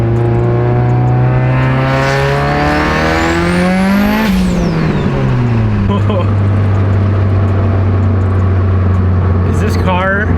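A 700+ horsepower Mitsubishi Evo 8 engine is given a quick throttle tip-in at night, its loud, close drone rising sharply in pitch to a peak, then falling back to a steady rumble, with a voice speaking over it.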